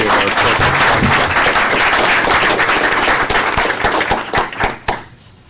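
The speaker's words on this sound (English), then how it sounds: "one more round of applause" Loud round of applause from a city council meeting audience, dense clapping throughout that thins into scattered claps near the end.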